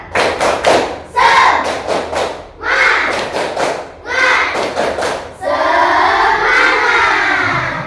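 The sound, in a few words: rhythmic group clapping chant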